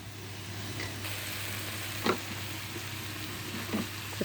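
Chickpeas and vegetables with cabbage frying in a pan, a quiet steady sizzle with a few soft stirring scrapes, and no talking.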